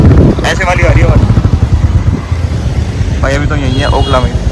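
A Royal Enfield Classic 350 motorcycle idles at an Okhla service station after its fourth service, a low, steady thumping engine beat running throughout while someone talks over it close by.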